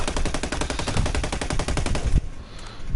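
Steyr AUG rifle firing in Ghost Recon, a rapid full-auto burst of about twenty close, loud shots in even rhythm for two seconds, then stopping.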